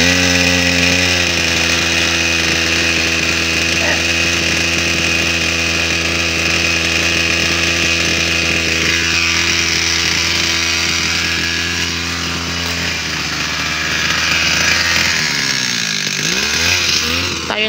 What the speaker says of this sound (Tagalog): nagagrass cutter dito